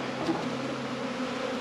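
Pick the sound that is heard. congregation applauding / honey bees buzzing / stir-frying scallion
honey bees buzzing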